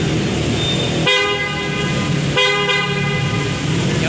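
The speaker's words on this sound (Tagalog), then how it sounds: "Tapos busina sir." Stock horn of a Honda Click 125 scooter, sounded in two bright, nasal honks of about a second each with a short gap between, close and loud over a low background hum.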